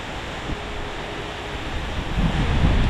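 Steady roaring mountain wind in Sapa, Vietnam buffets the microphone, a broad constant rush that swells louder toward the end, with no voices.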